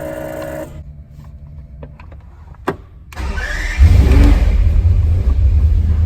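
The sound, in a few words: McLaren F1 engine starting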